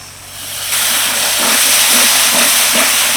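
Whisked sour yogurt is added to a hot, oily spice paste while cooking a bottle gourd dish, and a loud, broad hissing sizzle swells and keeps going. No one speaks over it.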